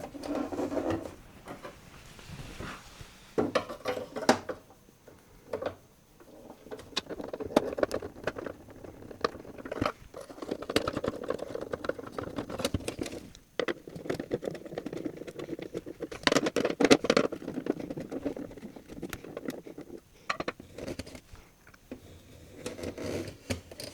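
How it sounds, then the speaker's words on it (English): A Phillips screwdriver backing four screws out of a Sony boombox casing, with close, faint clicks, ticks and small plastic knocks scattered irregularly over a quiet room. "we're going to need a Phillips head screwdriver to remove 4 screws"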